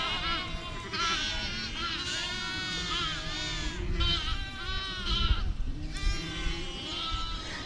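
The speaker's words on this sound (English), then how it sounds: "you guys are probably about tired of watching sheep walk through this electric fence gap" Sheep file one after another through a gap in an electric fence on an intensively grazed pasture, bleating over and over in overlapping calls at close range, with a steady low rustle of movement beneath.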